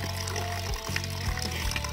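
Cold, pure spring water pours steadily in a dense, continuous rushing splash, loud and close, with a couple of brief dips in the flow.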